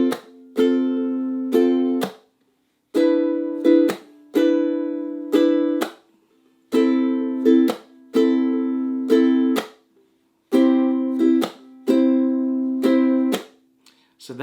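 Ukulele strummed through the four chords of a song in a down, up, chuck pattern: bright harmonic chords in repeating bursts broken by short muted chucks and brief gaps, close and clear with no talking.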